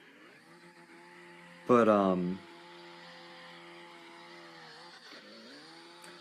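A car drifting sideways in the video game CarX Drift Racing, a sharp, loud tire squeal with rising engine whine lasting under a second, then a steady engine hum, with someone talking briefly.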